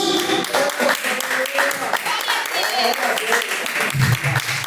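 Church congregation clapping their hands during a live worship service, steady dense clapping blended with singing or voices and music throughout.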